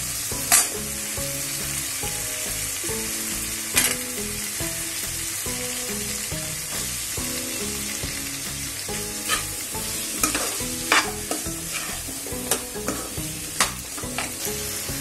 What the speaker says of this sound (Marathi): आता आपण त्याच्यामध्ये शेंगा आणि बटाटे दोन्ही टाकूया।